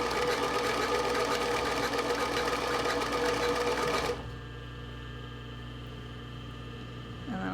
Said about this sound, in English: and then just start sewing.